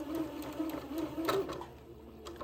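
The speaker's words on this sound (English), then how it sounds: "sewing in a straight, slanted line when I sew these plackets on" A sewing machine stitches the plackets of a dress in a short, steady run of rapid rhythmic clatter heard close up.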